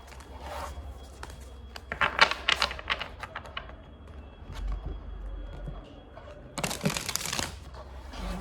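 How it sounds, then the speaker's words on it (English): Tarot cards shuffled by hand at close range, a run of quick papery riffles and taps in irregular bursts, faint and intimate, with a final louder flurry near the end. "One last shuffle."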